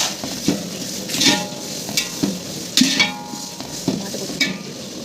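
Onions fry in a large pot for a 3 kg chicken biryani, a continuous sizzle punctuated by rhythmic scraping clatters of a spoon against metal, close and fairly loud.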